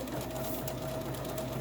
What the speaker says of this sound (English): we're going to sew this down, 1/4 inch seam again